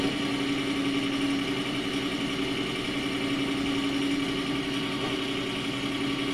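The engine of the old car in My Summer Car hums and revs steadily as the clutch is pressed, a continuous mid-pitched drone, moderately loud and unbroken, with no talk.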